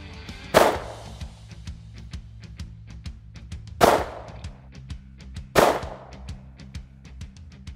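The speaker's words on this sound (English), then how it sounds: "That was 3 rounds of 44 Magnum all in one section of the chest right here." Three sharp .44 Magnum pistol shots strike a BulletSafe VP3 Level IIIA soft armor vest, each a loud crack with a quick decaying tail, spaced unevenly a few seconds apart over a faint background hum.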